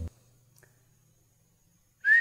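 A short whistle from a person rises in pitch at the very end, loud and alone after a near-silent stretch, preceded by a brief thump at the start.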